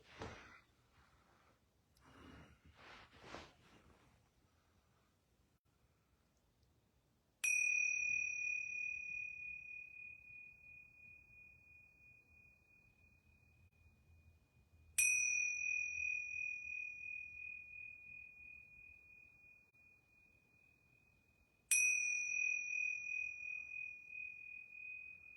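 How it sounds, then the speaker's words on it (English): Yoga bells struck three times at even intervals, each a clear, bright ring that lingers and slowly fades in a quiet room, after a few soft breaths at the start. "I'm going to ring these yoga bells 3 times."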